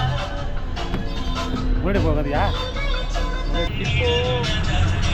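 A moving city bus from Chathiram bus stand to Srirangam rumbles with a low engine drone and road noise, loud cabin ambience under someone talking, with passengers' voices in the background.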